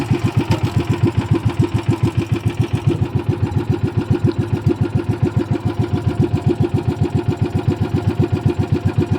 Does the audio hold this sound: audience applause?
no